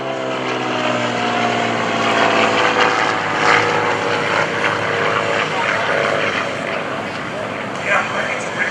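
A T-34 Mentor propeller plane with a Continental O-470 flat-six engine drones steadily and loudly nearby at an airshow, its engine note holding constant with a throbbing, buzzy roar throughout.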